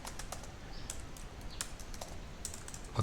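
Quiet, rapid keystrokes on a computer keyboard, a steady close patter of taps with no talking.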